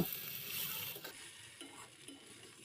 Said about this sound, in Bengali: এখন আলু আর ফুলকপিটা দিয়ে আরও 2 মিনিট মতো কষিয়ে নিচ্ছি।